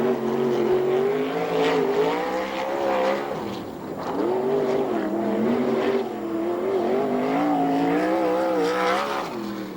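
Several 360 sprint cars race around the Ventura, California track at a USAC/CRA event, engines roaring loud and close with rising and falling pitch as they accelerate and pass, a continuous snarling drone throughout.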